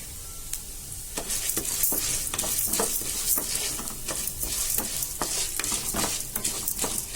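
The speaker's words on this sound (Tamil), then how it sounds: "இப்போ வந்து ஜவ்வரிசியை சேர்த்துடுறேன். இது நல்லா ஃப்ரை பண்ணணும்." Sago pearls frying in a pan for boondi payasam over medium heat, giving a loud, continuous sizzle with repeated scraping stirs of a spoon close by and no talk.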